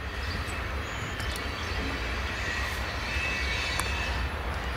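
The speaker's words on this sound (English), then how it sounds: "And the train's coming by this morning." A steady, broad rumble of a train rolling past nearby, continuous and unchanging throughout, with no voices.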